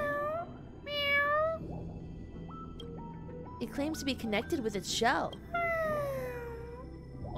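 A cat meows in the Honkai: Star Rail video game, a few high, bending mewls rising over a soft music bed, with a person talking between the calls.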